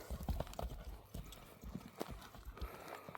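A horse offered for sale in Kyrgyzstan clops its hooves at an uneven pace, the dull thuds fairly faint against a noisy outdoor background.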